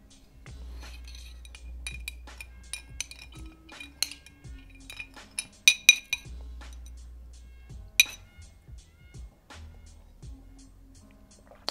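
A spoon stirs a ginger shot in a glass, producing a series of light clinks and taps against the rim, scattered and irregular, with a couple of sharper louder strikes midway and a low hum underneath.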